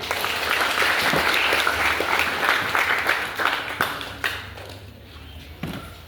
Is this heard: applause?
yes